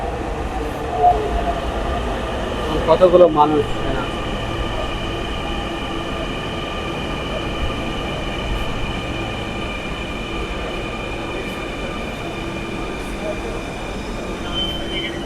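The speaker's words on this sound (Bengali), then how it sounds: "এই যে আমাদের মেট্রো রেল চলে আসছে" A Dhaka metro rail train pulling into an elevated station, a steady rumble with rising electric whine, a few clunks early on, and people talking nearby.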